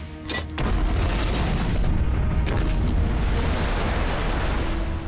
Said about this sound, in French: Une explosion souterraine m'a fait dériver.